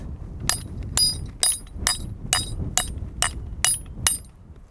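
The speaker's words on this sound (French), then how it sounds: "Je prends mon marteau et là, je l'enfonce." Hammer striking the head of a Coeur bolt anchor to drive it into rock, nine sharp metallic ringing blows at a steady, even pace, close and loud with no voices.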